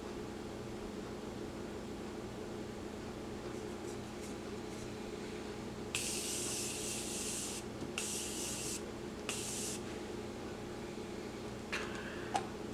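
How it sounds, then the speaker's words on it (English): Three quick hissing spray bursts of Morphe makeup setting spray, close and fairly loud, cut through a low steady room hum. No talking. "The Morphe setting spray."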